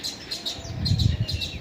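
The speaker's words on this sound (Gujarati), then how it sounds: "એટલી ચકલીઓ કેમ આવી હવે?" Sparrows chirp in a busy flock nearby, with repeated bright tweets throughout and a soft low background rumble.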